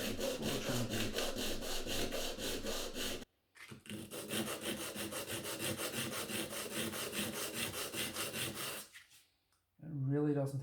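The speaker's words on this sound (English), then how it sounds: "sand this down" Sanding a part during a Taylor acoustic guitar setup: continuous rhythmic back-and-forth rasping strokes, close and loud, broken by two short pauses, with no talk.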